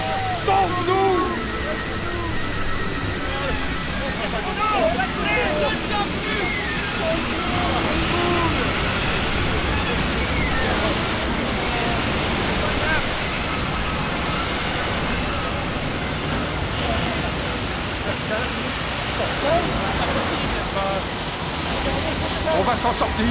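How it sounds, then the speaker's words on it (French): Strong waves of a stormy sea roar continuously in an animated Bible-story scene, a steady broadband surge with frightened voices shouting over it at times. "Les vagues sont trop fortes!"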